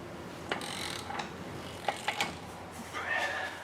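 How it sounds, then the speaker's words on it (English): A torque wrench set to 148 foot-pounds ratchets with a few sharp mechanical clicks against a low background hiss, fairly faint and close, tightening a front CV axle on a Ford Edge 2.0L. "just grab your big torque wrench, set that bad boy to 148 foot-pounds"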